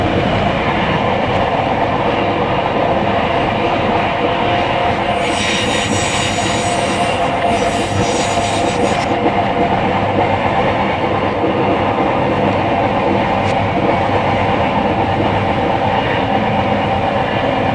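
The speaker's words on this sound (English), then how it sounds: "Here's what an engineer would see traveling along the rails to Granada." A train runs along the rails toward Granada, a loud, constant rolling rumble with rhythmic wheel clatter, heard from inside or up close, with a brief hissing squeal partway through.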